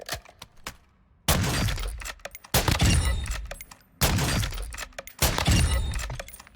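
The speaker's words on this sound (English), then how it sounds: "Look how fast you can fire." A video-game sniper rifle fires in quick succession, each shot a sharp loud crack with a shattering tail, about five heavy blasts spaced roughly a second apart.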